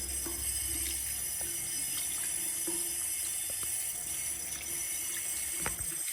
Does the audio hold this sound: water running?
yes